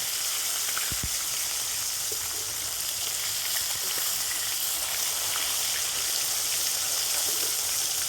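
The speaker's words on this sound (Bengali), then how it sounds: "এই মাছ ভাজার সময় উনানের জালটা একটু জোরে দিতে হবে, একটু জাল জোরে রেখে মাছগুলো ভাজতে হবে" Lote fish (Bombay duck) fry in a pan over high heat, a loud, steady sizzle running unbroken throughout with a few faint clicks and no speech.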